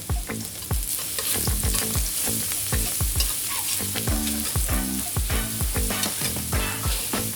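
A ground spice paste sautés in hot oil for beef bistik, sizzling steadily while a utensil stirs and scrapes the pan in quick, repeated strokes, close and clear with no talk.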